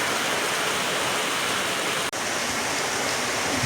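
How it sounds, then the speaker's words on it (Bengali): Steady rain pours outside in a dense, even hiss that runs without pause, broken only by a split-second dropout. "বৃষ্টি বৃষ্টি, আজকে সারাদিন মনে হয় বৃষ্টি পড়বে"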